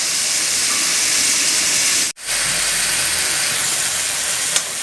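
Tomatoes frying in a pan for water spinach poriyal give off a steady, loud hiss and sizzle, broken by a brief drop to near silence partway through before the sizzling resumes.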